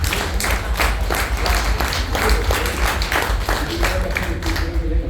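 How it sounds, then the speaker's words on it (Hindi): A seated audience at a talk on self-redevelopment of a residential building claps steadily, dense overlapping hand claps filling the room at close range for several seconds with no pause. "ताली मत बजाओ, अभी आपकी बारी है।"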